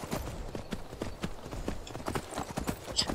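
Rhythmic clip-clop of horse hooves in Skyrim, a steady trotting gait, close and moderately quiet, continuing without pause.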